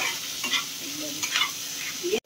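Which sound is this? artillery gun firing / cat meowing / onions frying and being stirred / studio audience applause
onions frying and being stirred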